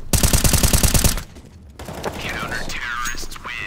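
Loud, rapid automatic gunfire on the Counter-Strike map Cache, a tight burst of evenly spaced shots lasting about a second, followed by quieter game sounds and faint voices.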